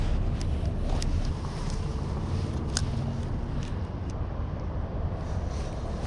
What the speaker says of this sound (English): That wind is stiff.